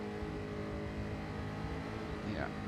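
A Jaguar race car in a sim racing game at Spa-Francorchamps gives a steady, faint engine drone with a brief rising whine near the end, with some talk over it.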